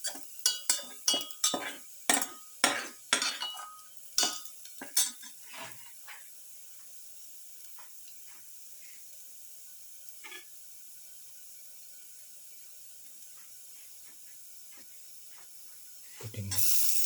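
Lamb being sautéed in a pan: a burst of close metallic clinks and scrapes from stirring for several seconds, then a faint steady sizzle with a single clink and a low rumble rising at the end.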